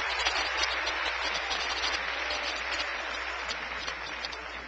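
Church congregation applauding steadily, a dense, continuous wash of clapping from many hands that holds at an even loudness without pause and with no one talking.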